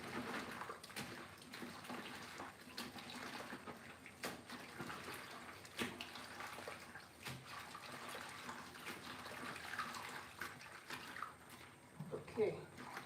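Vegetables being washed by hand in a kitchen, water sloshing and splashing steadily throughout at close range, with brief louder splashes and some talking mixed in.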